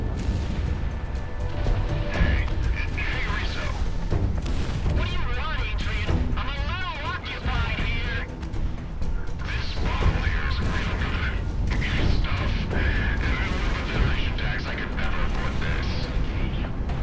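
Artillery fire in the flight combat game Project Wingman: sustained heavy rumbling blasts and crashing explosions over a continuous roar of battle, with a voice talking throughout.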